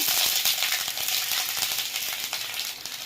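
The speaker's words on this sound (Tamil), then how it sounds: "பூண்டு, நல்லா ஃப்ரை பண்ணிக்கங்க." Garlic frying in a pan makes a loud, continuous, close sizzle with faint ticks from stirring underneath.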